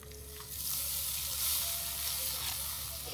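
White wine splashing into a pan of rice brings a loud, steady sizzle that swells after half a second and holds close, with faint clinks beneath.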